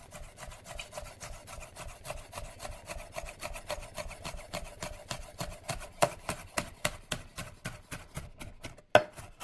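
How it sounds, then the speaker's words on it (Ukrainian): A knife chops thinly through bell pepper on a cutting board for shawarma, giving steady, rapid, close taps that grow louder and sharper toward the end, with no talking. "перчик нарізаємо. Тоненько, тоненько."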